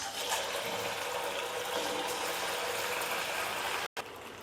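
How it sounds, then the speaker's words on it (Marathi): Potato patties sizzle and crackle in hot oil on a gas stove, a dense and steady frying hiss heard up close. The sound cuts out for a moment near the end, and no one speaks. "हे पहा, बघू शकता छान फ्राय होत आहेत."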